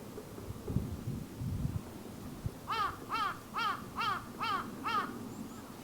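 Six harsh crow caws from a tree in a steady evenly spaced series, fairly close, on a winter mountain in Kamakura, over a quiet outdoor background with low rumbling earlier on.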